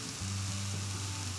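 Vegetables sautéing in a pan for a mushroom cream soup, a steady close sizzle with a low hum underneath, brief and uninterrupted with no talking.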